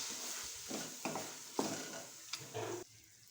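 Green beans mixed with yogurt in a hot pan, several scraping stir strokes over a soft background sizzle, close by and moderately quiet, ending in a near hush.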